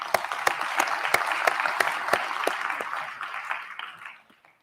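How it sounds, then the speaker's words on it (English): Audience at a mobility summit opening ceremony applauds steadily, a dense wash of clapping with a few sharper individual claps standing out, holding strong for about four seconds before tapering off quickly. "I think this in itself deserves a huge round of applause."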